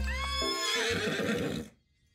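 A horse in a KFC dating sim video game gives a loud, clear whinny with falling pitch lasting over a second, then cuts off to silence.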